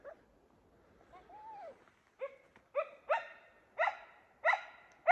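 A hunting dog on a hunt, a female out in the field, lets out a soft whining yelp, then a run of five or six loud, sharp barks at steady intervals, fairly close and with no one talking.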